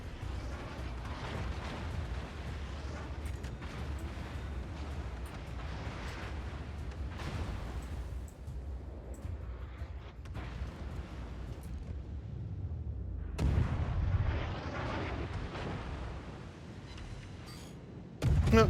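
Battleship broadside cannon fire in a naval video game: a dense, continuous rumble of heavy booms and blasts, with a sharp louder burst partway through and another at the end, loud and close with no talk.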